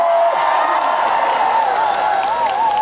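A large outdoor concert audience at the 19th Cheongsong Apple Festival roars on cue. The sustained loud cheering and whooping fills the whole stretch, with a wavering high tone riding over it.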